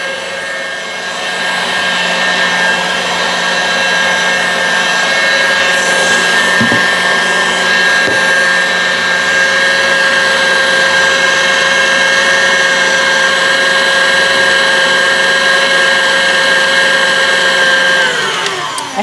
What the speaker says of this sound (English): Let that whisk up for another minute or so whilst we make sure that the sugar